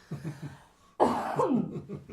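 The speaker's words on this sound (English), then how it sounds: "I'm going to duck down and cough" A single loud cough bursts out close to the mic in a small studio setting, sharp and rasping then tailing off, after a stretch of quieter background noise.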